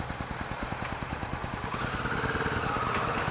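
A new Kawasaki Vulcan S cruiser motorcycle putters with a steady, low thumping rhythm while riding with the clutch slipping, rising slightly in pitch as it picks up speed.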